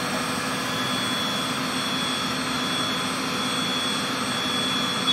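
A steady, loud jet engine roar near an airport holds constant throughout, with no voices over it.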